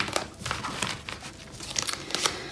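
A tarot card drawn from a deck gives soft close crinkling and papery rustles and flicks, scattered irregularly over a couple of seconds.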